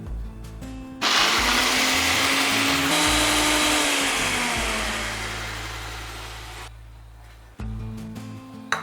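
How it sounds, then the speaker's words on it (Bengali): An electric blender grinds cumin and green chili with a little water into a spice paste, a loud continuous whirring motor roar that runs for several seconds, its pitch slowly sagging, before cutting off. "এটাকে সামান্য একটু জল দিয়ে বেটে নেব।"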